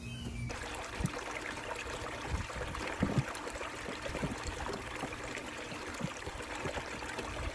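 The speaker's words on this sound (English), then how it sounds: "I'm gonna start up the, the sluice and we're gonna start running some material" Water runs steadily through a gold sluice processing dirt, a continuous trickling and splashing stream with occasional small knocks, fairly close and without speech.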